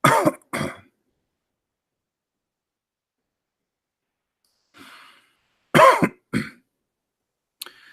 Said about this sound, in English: apologize, I'm coughing.